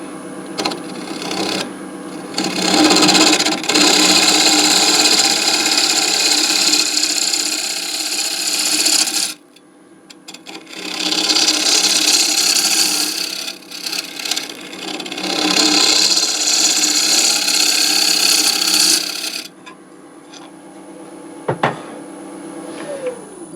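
A wood lathe turns the base of a wooden beer mug made from old, cracked timber, giving loud, close scraping and rubbing as the tool cuts, in long sustained passes broken by brief pauses.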